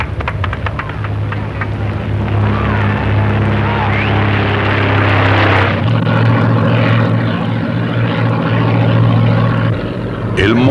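An early airplane's propeller engine runs loudly and continuously, a droning hum that holds steady throughout, with a voice talking over it.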